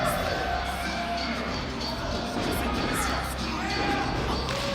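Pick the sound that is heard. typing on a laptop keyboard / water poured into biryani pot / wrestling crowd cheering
wrestling crowd cheering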